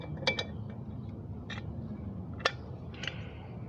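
A socket ratchet works the muffler bolts on a Toro push mower, giving a few short, sharp clicking bursts with gaps between them, close and fairly quiet against a low background hum.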